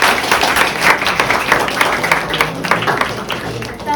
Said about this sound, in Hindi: यस तालियां रुकनी नहीं चाहिए।